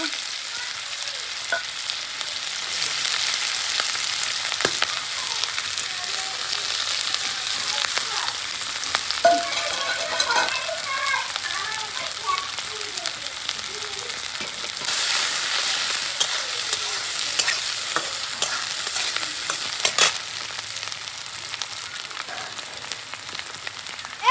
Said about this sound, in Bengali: কড়াইতে সরষার তেল দিয়ে দিলাম পেঁয়াজ রসুন আদা লঙ্কা সব একসঙ্গে ভাজা করে নেব